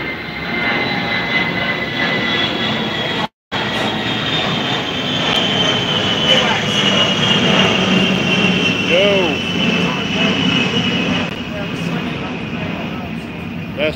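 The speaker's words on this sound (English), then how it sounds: "That's one of them loud aircraft." A loud aircraft flies overhead in Leon Valley, its broad, steady engine roar filling the whole stretch while a person talks underneath.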